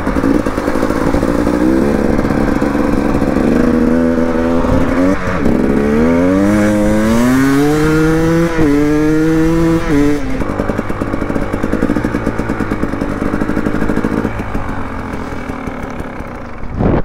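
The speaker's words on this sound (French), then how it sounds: "Et je vous laisse en musique du deux temps." A two-stroke enduro motorcycle on an off-road ride revs loudly up and down close by, its rising and falling engine pitch ringing out in repeated sweeps before settling into a steady, buzzing drone.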